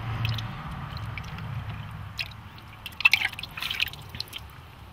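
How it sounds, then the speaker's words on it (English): A freshly plucked dove being washed in water, giving soft drips, splashes and wet squishing handling noises, steady at first and then a cluster of sharper splashes near the end, fairly close with no talking. "you can put it in some water and wash them off like I'm going to do now."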